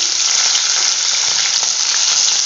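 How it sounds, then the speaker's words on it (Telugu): Loud, dense sizzling of soaked cashews dropped into hot tempering oil, a continuous crackling hiss close up with no voices. "నానబెట్టుకున్న జీడిపప్పు ఉందండి, కొన్ని ఉంచాను. ఇట్లనే పోపులో వేసేసుకుంటున్నాను."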